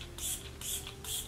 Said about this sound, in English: So just gonna make sure it's spraying right.